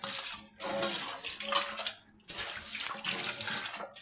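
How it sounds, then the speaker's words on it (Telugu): Dishes being washed at a home kitchen sink under a running tap, with water splashing steadily in two bursts broken by brief pauses, plus faint clinks of dishes, close and fairly loud with no talking. "చూడండి, డిషెస్ అన్నీ వాష్ చేస్తుంది నీట్గా."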